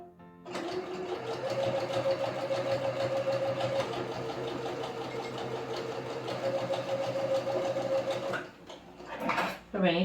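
A sewing machine runs a continuous fast stitching whir along the seam of a V-neck t-shirt, steady and close for several seconds before stopping, followed by brief handling noises.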